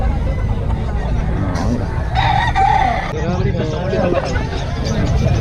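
A rooster crows partway through, fairly distinct amid a busy crowd of chattering voices and steady background noise at a gamecock sale.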